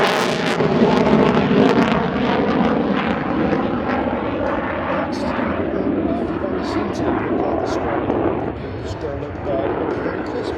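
F/A-18 Super Hornet fighter jet at an airshow demo pulling up on full afterburner, a loud broad roar that swells and then slowly fades, with a commentator's voice running over it.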